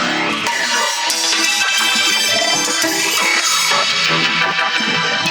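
Drum break run through an effects rack in Ableton, heard as a dense, continuous processed loop with busy, smeared hits across a bright, saturated spectrum at steady high level, no voices.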